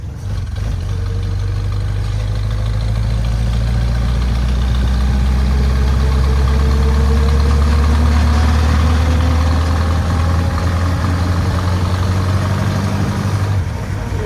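A 1915 vintage car engine fitted with a freshly tuned Zenith carburetor runs steadily at low RPM in third gear, a loud, close, continuous low rumble that holds even for about fourteen seconds before cutting off.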